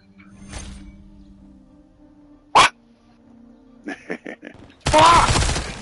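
A dog barks in a home where people are cooking dinner in the kitchen. It gives a few loud, sharp barks, with one near 2.6 seconds and another burst near the end, and background voices and household noise fill the gaps between them.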